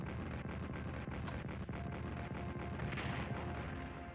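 Heavy artillery guns firing in Strategic Command WWII: War in the Pacific, a dense, rumbling barrage of deep booms and blasts rolling continuously without pause, with no voices over it.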